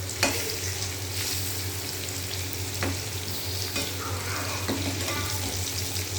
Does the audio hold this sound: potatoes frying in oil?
yes